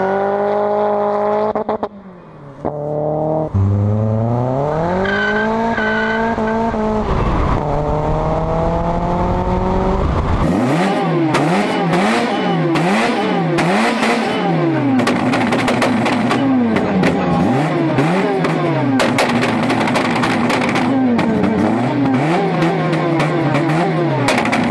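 VW G40 engine with a belt-driven G-Lader supercharger, revved repeatedly after starting: loud rising and falling whine and rasp in close, sweeping bursts, briefly dropping before climbing again through a long series of revs.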